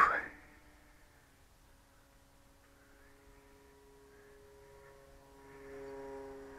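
A radio-controlled model airplane in flight, its engine easing back on the throttle to a steady, fairly faint droning hum before building slightly again near the end.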